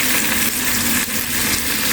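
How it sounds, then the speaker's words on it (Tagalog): Loud, continuous sizzling of onions, garlic and ginger frying in reused fish oil in a pan, a dense hiss that barely wavers for the full two seconds with no talking. "yan na rin yung ginamit kong pinanggisa ng ating mga sibuyas"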